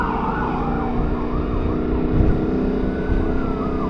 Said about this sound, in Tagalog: Baka may aksidente kaya ganyan. Ambulansya? Ambulansya.